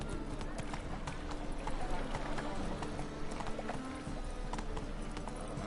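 The horse Roach gallops in a PS4 video game, with rapid, rhythmic hoofbeats pounding steadily throughout and a voice speaking over them.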